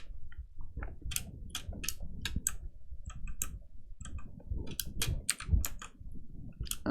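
Quick, uneven bursts of keyboard clicks from someone working through shortcuts, coming in clustered taps and pauses over a low, steady indoor hum with no talking.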